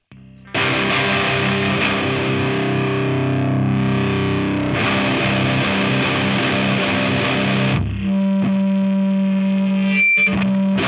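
Laney Pro Tube AOR Series II guitar amp with gain at minimum and the bright switch on, loud saturated distorted chords ringing out, then a sustained crunchy single-note line, with no talking.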